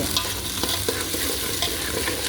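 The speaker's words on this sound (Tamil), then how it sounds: "வெங்காயம் வணக்கிட்டு இருக்கிறோம்." Onions frying in a pan with steady sizzling, and a spoon scraping and stirring them in repeated strokes, close and fairly loud with no talk.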